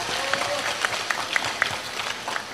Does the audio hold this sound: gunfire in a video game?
no